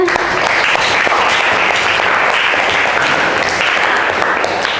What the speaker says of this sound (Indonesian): Oke, beri aplaus untuk semuanya.